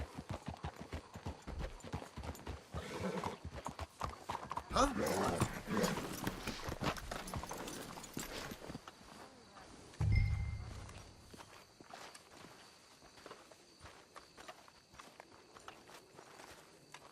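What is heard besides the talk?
horses walking, hooves in video game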